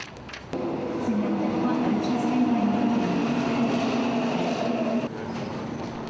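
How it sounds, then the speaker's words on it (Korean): A subway train rumbles steadily as a passenger boards, a continuous loud roar with a sharp shift at the start and a drop near the end, with no speech over it. "책에 몰두하다 급하게 지하철에 오르는 준이"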